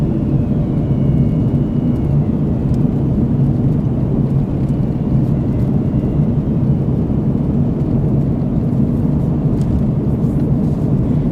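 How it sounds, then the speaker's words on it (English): Air conditioning compressor engaging in a 2001 Chrysler Sebring during a drive, heard as a steady low hum blended into constant engine and road rumble inside the cabin. "There's the compressor kicking in."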